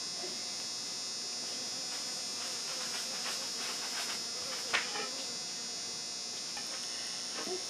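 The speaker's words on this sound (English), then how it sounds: "a bee smelled it and followed me back into the shop here" A steady insect buzz drones throughout, a bee hovering nearby inside a shop during honey harvesting, with a faint brief knock partway through.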